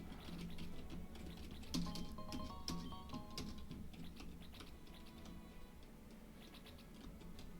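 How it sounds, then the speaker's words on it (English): Light pattering rain steps from a Pokemon fusion game, a quiet continuous tapping like soft keyboard clicks with a few faint tonal blips over a low steady hum, no voices. "This is what it sounds like when I walk in the rain."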